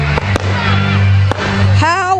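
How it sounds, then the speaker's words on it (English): Medilodge fireworks at a Michigan balloonfest give off a few sharp distant pops and bangs, partly masked by a low steady hum and excited voices talking over them. "The Medilodge fireworks is starting."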